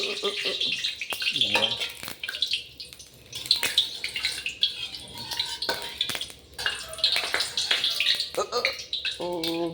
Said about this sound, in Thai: ทอดไข่ครับโอ้น้ำกระเด็นน้ำกระเด็น